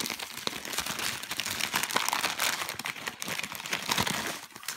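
A packet of oatmeal is shaken close up, giving dense, uneven papery rattling and crinkling bursts with no speech.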